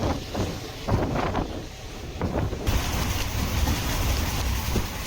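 A diesel-hauled passenger train on the Rameswaram–Tiruchirappalli line runs at speed between Manamadurai Junction and Sivaganga, giving a steady, loud rolling rumble with wind buffeting throughout and no voices.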